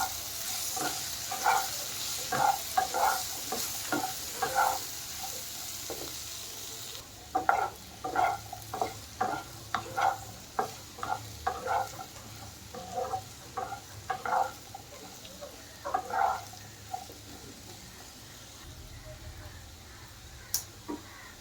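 Pasta being stirred and mixed in a pan with ghee, pepper, salt and a little turmeric, giving repeated scraping and stirring strokes over a steady sizzle, with faint background noise.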